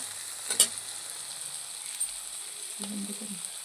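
Green peas frying in a generous amount of oil, a quiet steady sizzle with a couple of faint clinks and a low scrape near the end.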